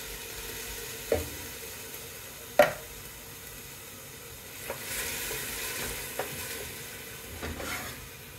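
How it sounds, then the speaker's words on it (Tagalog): Tomatoes go into a pot of beef stew, followed by a low sizzle and a few distinct knocks and scrapes as the mixture is stirred, fairly quiet overall. "Ilagay na natin ang kamatis."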